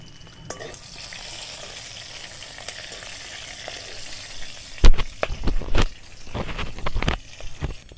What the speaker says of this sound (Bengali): ফোড়নটাকে সুন্দর করে আমি এখন ভেজে নেব।